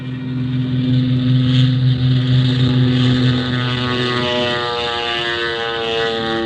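Small propeller plane engine in a radio drama scene, a steady loud drone with strong low harmonics that holds throughout and eases slightly toward the end, no voices.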